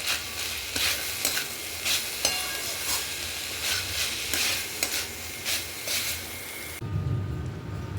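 Onion and chopped green chillies frying with chicken in a pan for chicken rolls, a steady close sizzle with intermittent stirring scrapes, stopping abruptly near the end.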